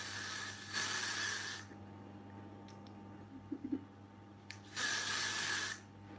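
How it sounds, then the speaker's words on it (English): Hairspray from an aerosol can hisses in two long, fairly loud bursts of about a second each, separated by a quieter stretch with faint small clicks and a low steady hum. "Yeah, I just sprayed it."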